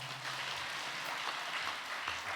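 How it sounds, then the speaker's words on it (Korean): During a men's mission devotional service in a Korean church, the congregation claps in thanks to the preaching pastor. The sound is a dense, even wash of many hands at moderate loudness that fills the short stretch, with no talking. "이 시간 은혜로운 말씀을 전해주신 목사님께 감사 박수 드리겠습니다."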